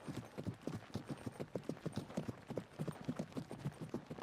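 Steady, rhythmic clip-clop of horses' hooves at a trot, fairly faint and close, with no voices.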